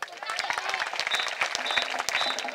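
Students at a residential government school applaud together, sharp individual claps standing out of a lively crowd wash, with a few voices calling out over the clapping.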